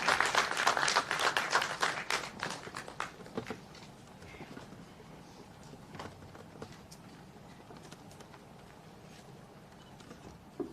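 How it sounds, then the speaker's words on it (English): An audience claps at the inauguration of the Goa-CMS Vatavaran Film Festival and Forum. A dense burst of applause for the first few seconds thins into scattered claps and fades to a quiet room. "Sir, can we have a big applause for sir?"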